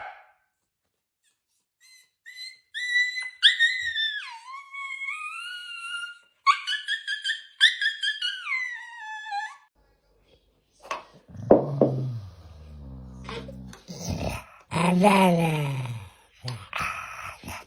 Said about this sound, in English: Barking when he's asleep.